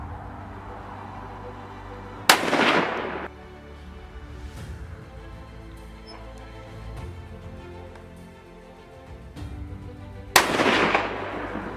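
Two loud rifle shots crack about eight seconds apart while a scope is sighted in outdoors in the Texas Hill Country, each followed by a short echoing tail over quiet ambient background.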